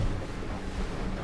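Ocean waves and wind wash steadily around a Quintrex 590 Ocean Spirit Pro boat running a Yamaha F150 outboard on open water, a broad continuous rumble without any talk.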